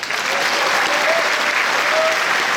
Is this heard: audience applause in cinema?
yes